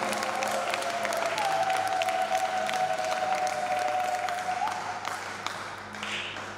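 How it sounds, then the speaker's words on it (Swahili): A church congregation at a Swahili Christian teaching service claps and cheers in a sustained, dense wash of applause lasting several seconds, with a steady tone running beneath it. "Pokea basi kwa makofi mengi mazuri ya shangwe"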